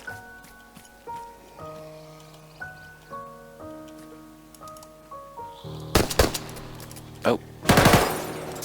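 Gunfire in the multiplayer shooter game Ravage Redux, with two loud bursts of rapid shots near the end following a stretch of tonal game music and a brief exclamation.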